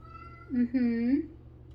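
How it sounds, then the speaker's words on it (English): A small cat gives a single drawn-out, rising and falling meow at close range, clear and loud over a quiet indoor background. "He has a lot of things to talk about today, that little kitty."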